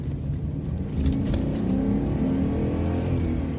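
A BMW E38 7 Series V8 engine pulls smoothly under acceleration, a steady low rumble that swells slightly after the first second and holds, heard from inside the car with no talking.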